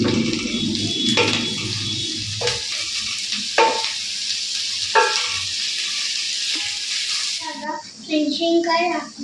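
Chopped onions and capsicum sizzle and fry in a pan for baby upma, with a spoon scraping and stirring in several distinct strokes, close and steady throughout.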